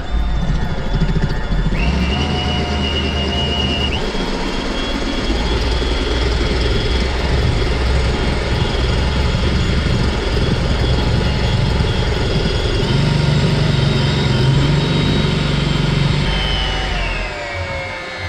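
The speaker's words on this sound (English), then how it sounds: "while I have the whisk attachment on, I'm going to go ahead and whisk the whites until they make peaks" Stand mixer with a whisk attachment whipping egg whites to peaks, a continuous motor whine with shifting tones and a churning rush that swells and eases over the stretch, with no voices.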